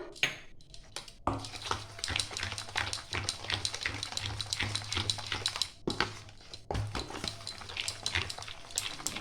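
A spoon clinks and scrapes against a bowl while salt and sugar are stirred into green chilli mango pickle. The busy, close tapping runs over a low steady hum, with no talking.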